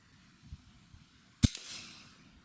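A survival air rifle fires a single Gammo PBA pellet, one sharp crisp crack followed by a short hissing decay, close and isolated against quiet outdoor background.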